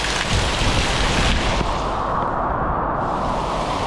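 Heavy rain pouring down outside a garage: a loud, dense, unbroken hiss and rumble of a downpour drumming on surfaces, steady throughout with no voices.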